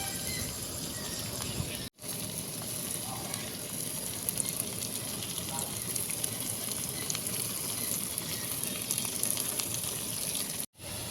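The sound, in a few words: vegetables frying on high flame in a wok for chowmein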